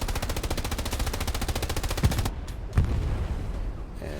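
Sustained, rapid machine-gun fire from tanks in the World War II shooter Hell Let Loose runs loud and continuous for about two seconds, then breaks off, followed by a couple of heavier single cannon thuds over lingering battlefield rumble.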